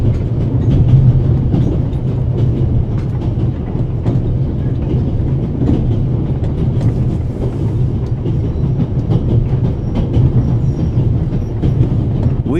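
Swiss train in the adventure game The Raven, rolling along steadily with a constant low rumble and clickety-clack of wheels on rails, loud and close with no one talking.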